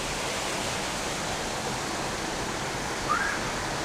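Constant roar of falling water at Kalayaan Twin Falls, a dense, steady rush with no breaks and no talk over it.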